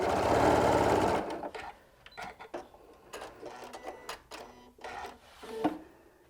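A sewing machine runs steadily for about a second as it stitches fabric for a quilting template project, then stops, followed by scattered light clicks and handling taps of the fabric.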